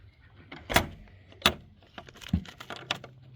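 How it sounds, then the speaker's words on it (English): A barn's chicken-run door is pushed shut, with a couple of sharp wooden knocks and latch rattles followed by lighter clattering and shuffling, close by with no talking. "Just got to come up here and close the door now."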